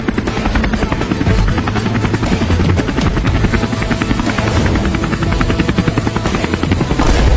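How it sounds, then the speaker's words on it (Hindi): A large helicopter flies close by with a loud, steady rotor chop and buzzing engine, continuous throughout with no voices. "हम इतने बड़े हेलीकॉप्टर से उड़ रहे हैं"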